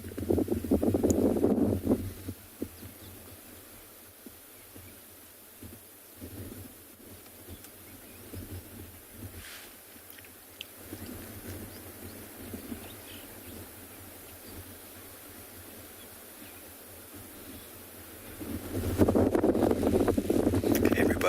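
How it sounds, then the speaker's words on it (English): Wind gusts on an open safari drive at sunset, rushing and buffeting the microphone in loud bursts at the start and end, with a quieter steady blow between. "hopefully the wind dies down just a little bit."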